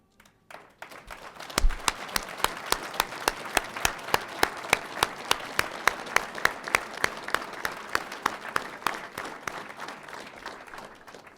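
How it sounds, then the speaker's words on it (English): Audience applause for family members at a LERTA law enforcement academy graduation ceremony, starting with a few scattered claps and settling into steady, rhythmic unison clapping that beats evenly for about ten seconds. "I would like you to stand while we applaud you"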